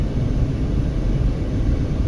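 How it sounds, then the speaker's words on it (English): Distant airplanes on final approach over Las Vegas give a steady, continuous low rumble with a faint broadband hiss, with no voices present. "All sorts of planes in final approach mode there, off in the sky in the distance there"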